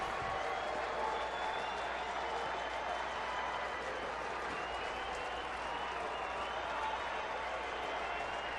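A baseball stadium crowd at a Minnesota at Arizona game cheers and applauds as fans rise, a dense, continuous roar with clapping that holds steady throughout, under a broadcaster's voice.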